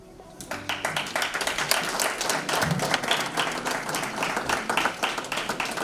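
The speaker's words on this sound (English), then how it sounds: "You gotta clap a little louder." A crowd at a book launch breaks into applause that builds quickly and holds steady, many overlapping hand claps close and fairly loud, with a few louder individual claps near the end.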